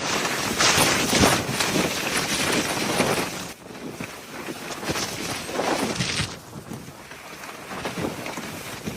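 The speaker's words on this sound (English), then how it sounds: "That wind is not only fueling the fire, it's not only dispersing the fire" Strong wind sweeping through during the Palisades wildfires, a loud continuous roar with gusty surges and broadband buffeting on the microphone, no voices.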